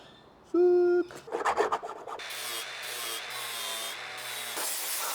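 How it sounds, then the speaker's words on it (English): A grinder wears down overhanging metal tabs on a crash bar repair, starting with a sharp tonal whine and then settling into a steady, close rasping grind that runs continuously with brief dips. "Some of the metal tabs are overhanging, so I'll grind them down"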